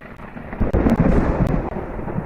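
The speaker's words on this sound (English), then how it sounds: "hear the sound of thunder and see dark clouds off in the distance" Thunder rumbles in a storm, a deep rolling boom that swells in the first second and rolls on loudly without voices.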